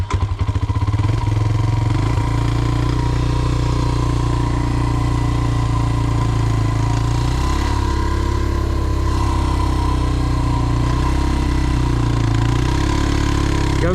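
A Kawasaki KLX230 dirt bike engine runs loud and close in first gear, a steady rumbling drone with slight shifts in pitch as the throttle varies, and no voices over it.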